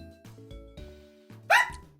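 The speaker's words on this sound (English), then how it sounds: "Kirby, stop barking." A pet dog indoors gives a short run of small barks and yips, with one louder sharp bark near the end, close by over a quiet room.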